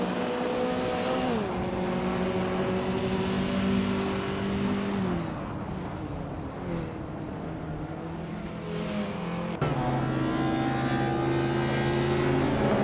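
Race cars in a racing video game overtaking one another, with steady engine drone and rising and falling revving tones as gears shift, plus a sharp change partway through as another car passes close.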